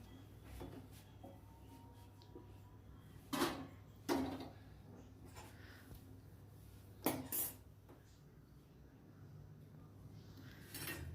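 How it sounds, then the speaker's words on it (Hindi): Food is served into dishes in a home kitchen: three or four distinct clinks and knocks of utensils against plates, spaced out against a quiet room hum. "अब मैं डाल दूँगी इनके लिए खाना"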